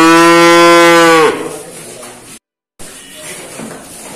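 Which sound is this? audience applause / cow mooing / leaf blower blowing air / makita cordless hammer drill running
cow mooing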